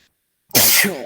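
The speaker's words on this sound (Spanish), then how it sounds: "Me dio el estornudo" A single loud, explosive sneeze bursts out after a moment of silence, close to the mic, with a breathy trailing release.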